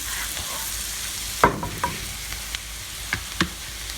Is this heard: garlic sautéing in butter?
yes